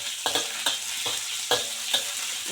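Green beans and pork are stir-fried in a pan, with a steady sizzle broken by rhythmic scraping strokes of the spatula, close and fairly loud.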